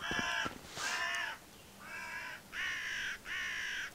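Crows caw in the fantasy game Divinity 2, a run of five harsh, drawn-out calls in steady succession, fairly close and clear over a faint ambient hush, with no talking.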